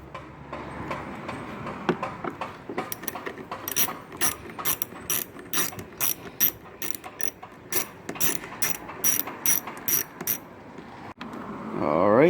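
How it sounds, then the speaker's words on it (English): A ratchet with an 8mm socket cranks out tail light bolts on a Honda Fit, fast rhythmic clicking in bursts of many close ticks, loud and near with no talk. "I'm going to use an 8mm, and we're going to crank them out."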